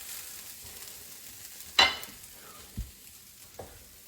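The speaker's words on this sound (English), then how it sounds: "It's just always scrape the bottom, even though this is a non-stick pan, it'll still start sticking." Vegan plant-based crumbles fry quietly in a non-stick pan, with a soft continuous sizzle broken by a sharp scrape of a utensil across the bottom and two lighter scrapes after it.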